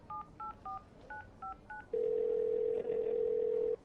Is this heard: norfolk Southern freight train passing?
no